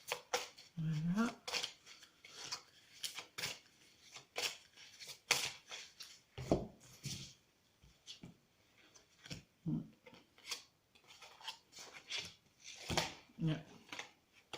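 Oracle cards are shuffled in repeated short riffling bursts at close range, alternating with someone speaking French between them.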